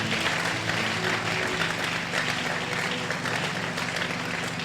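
A large church congregation breaks into steady, loud applause and cheering, dense clapping filling the room with voices mixed in, unbroken from start to finish.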